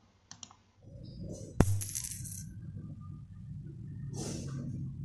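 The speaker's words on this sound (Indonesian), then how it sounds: "Berikut ini kegiatan melempar sebuah koin." A single coin tossed into the air and dropping onto a hard surface, a sharp metallic clink followed by a brief rattle and settling ring, close and alone without talk.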